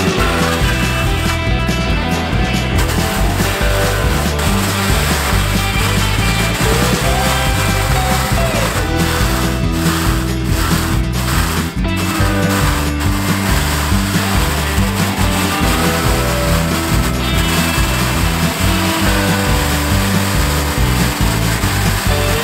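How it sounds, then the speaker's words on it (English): A power sander grinds steadily against a wooden boat paddle, loud and continuous with a rough rasping texture and a constant motor drone throughout. "So we just finished sanding the paddle."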